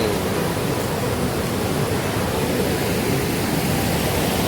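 A private waterfall on a mountain stream in a Kerala estate, heard as a steady, dense roar of rushing water that stays constant throughout, close and fairly loud with no voices.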